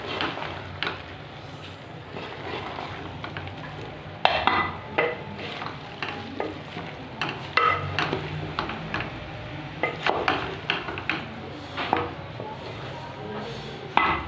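Cauliflower, potato and meat curry is stirred in a pot. A spoon scrapes and knocks against the metal in an irregular rhythm over a low background sizzle.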